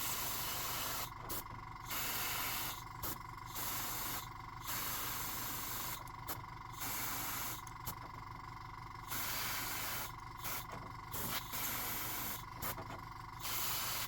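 An airbrush sprays thin paint in steady hissing bursts, alternating with brief pauses as gentle passes are made, close and continuous over a quiet background.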